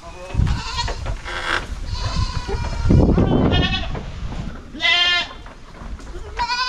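Several goats on a farm bleat loudly and close by in repeated wavering calls, one after another with little pause, over a low rumbling background.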